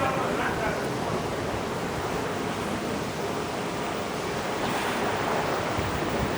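Water sloshes in a cruise ship's deck pool on a rough sea morning, a steady loud rush that runs without a break, mixed with wind buffeting the microphone.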